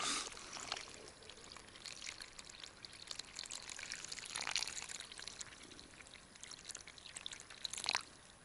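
Water pours steadily and quietly onto loose forest soil, with trickling and gurgling that swells in a few brief louder splashes near the end.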